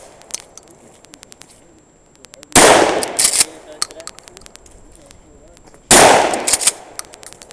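Two loud gunshots crack several seconds apart, each a sharp, close blast trailing into a short echo, with quiet faint sounds in between.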